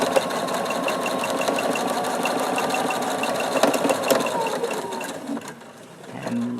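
A sewing machine runs steadily, stitching a quilt seam through fabric right next to the fold, with a continuous close mechanical whir that slows and stops near the end.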